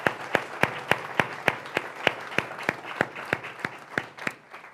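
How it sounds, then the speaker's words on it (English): A small audience applauding at a higher-education tribute event, about a dozen sharp evenly spaced claps in steady rhythm, moderately loud with no talking over them. "Would you give them a round of applause?"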